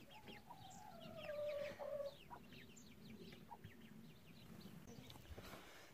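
Hens cluck softly and repeatedly inside their coop, with scattered short calls and a quiet, busy murmur of the flock at close range, and no talking.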